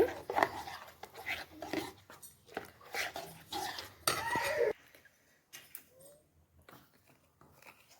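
Semolina and vegetable batter stirred with a spoon in a bowl, giving repeated close scraping and clinking strokes for several seconds before the sound thins to faint, scattered taps.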